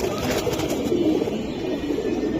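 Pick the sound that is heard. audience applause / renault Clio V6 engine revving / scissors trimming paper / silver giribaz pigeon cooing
silver giribaz pigeon cooing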